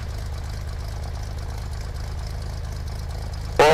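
The engine of small airplane C-FMVU idling just after start-up, a steady close low-pitched rumble with even pulsing, ending with a brief sharp burst of noise.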